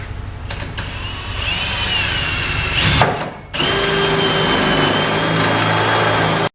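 A power drill fitted with a 1 3/4 inch bit bores steadily through material on a boosted F23 Honda Accord, its loud motor whine running close and continuous, briefly dipping and surging mid-cut before resuming until it cuts off.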